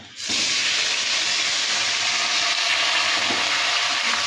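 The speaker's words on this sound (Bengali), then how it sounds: "কড়াইতে তেলটা আছে, আমি আর এখানে সবজিগুলো বসিয়ে দেবো" Potatoes and vegetables frying in hot oil in a wok, a loud, steady, close sizzle and hiss that starts abruptly and carries on unbroken, with no talking.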